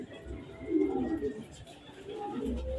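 Racing pigeons at a sprint race loft coo in soft low repeated phrases, fairly close and gentle, with faint background voices and rustling around them.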